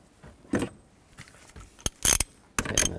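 A ratchet tightens the steering wheel nut on a 2003–2007 GMC steering column, giving a few short bursts of metallic clicking separated by pauses, close and fairly quiet.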